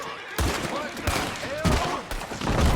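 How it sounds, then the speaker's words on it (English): Repeated gunfire from a Red Dead Redemption II shootout, several loud broadband shots and volleys at uneven intervals, with voices talking throughout. "Wait, who's doing all the shooting?"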